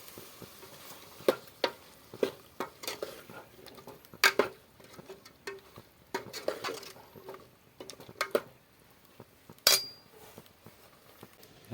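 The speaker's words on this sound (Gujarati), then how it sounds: "ગુમલા ધોવાનું કામ ચાલુ છે." Pots and pans being scrubbed and rinsed at a sink after cooking, with scattered light clinks, taps and watery patter, irregular and fairly quiet, with no talking.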